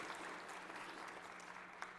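A crowd applauds in the Hawaii Senate chamber, giving a steady, distant patter of clapping that continues throughout with a few louder claps.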